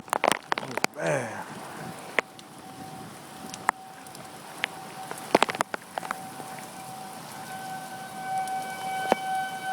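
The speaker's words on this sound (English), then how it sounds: "I was just looking and I seen the sheet of rain" Heavy rain pours in a dense, continuous hiss during a tornado storm, with sharp pops of debris and a steady siren tone wailing faintly in the background.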